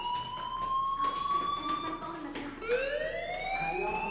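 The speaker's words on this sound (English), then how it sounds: "Hey, do you hear that fire alarm?" A fire alarm in the video game Life is Strange wails with rising and falling electronic tones, fairly loud and repeating, with a brief dip before the sweep starts again.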